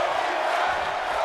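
Dense, steady roar of a wrestling arena crowd in the WWE 2K26 video game, a constant wash of cheering and shouting that stays loud and even throughout, with no clear single voice standing out.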